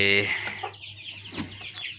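Chickens cluck and chatter close by, a short burst of higher calls at first followed by scattered softer clucks over a low hum.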